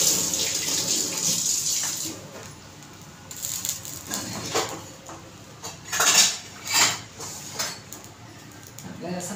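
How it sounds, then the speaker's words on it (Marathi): Running tap water splashing in a kitchen sink while hands are washed, with clinks of dishes and pots, steady hiss with a few louder bursts of splashing, someone talking over it. "हात धुवून घेते"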